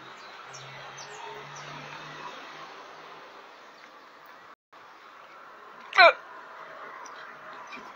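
A single sharp hiccup from a person who ate too much malagueta chili pepper on sardines, heard close and brief against a faint steady background hum.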